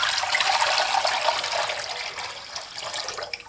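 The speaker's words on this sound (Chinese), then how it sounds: "锅中放入肉皮3倍的水" Water pours steadily into a cooking pot that will be used to boil pork skin, a continuous close gushing splash that holds strong throughout with no talk.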